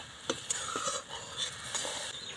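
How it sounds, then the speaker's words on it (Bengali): Flour being stirred into ghee in a pan for maida sandesh, a quiet sizzle under scraping strokes of a spoon, with a few distinct clicks against the pan, no talking. "আমি ঘিটা দিয়ে ভালো করে একটু নাড়াচাড়া করে নিলাম"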